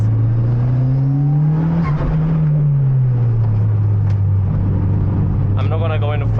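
Mitsubishi Evolution V engine droning steadily on a mountain touge run, pitch rising and falling with throttle, loud and close from inside the car, with a voice talking over it.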